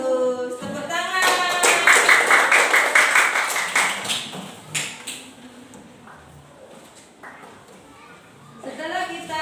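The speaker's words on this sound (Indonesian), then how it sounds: "tepuk tangan" Children in a primary school classroom clap together in quick rhythmic bursts for a few seconds, loud and close, then fade into scattered taps and room noise as a voice speaks.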